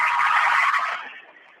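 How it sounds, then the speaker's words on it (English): Basketball scoreboard buzzer at a boys' high school game, a loud, harsh, steady electronic tone lasting about a second before cutting off into faint hall ambience. "I'm not sure why that buzzer would have been going off"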